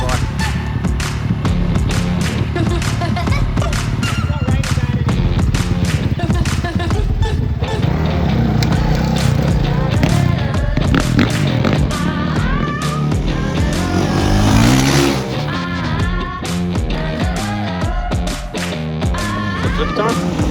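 Freestyle motocross bikes rev and roar continuously, with engine pitch rising and falling as riders throttle for jumps, loud and close throughout with voices mixed in.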